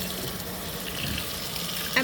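A Fisher & Paykel MW059 washing machine fills with water, giving a steady, continuous rush and hiss of water running into the drum, close and unbroken throughout.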